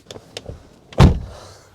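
A car door on a Mercedes-Benz W210 E430 shuts with a single heavy, solid thud, close by, after a few faint clicks of the handle and latch.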